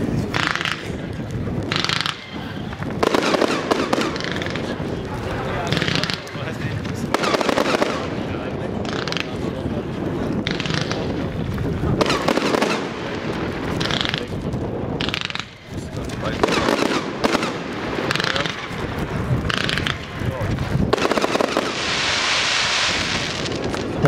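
A long barrage of shots from a Panda 100-shot Blumengarten firework cake fires in rapid succession, crackling and booming loudly outdoors with wind noise and occasional voices.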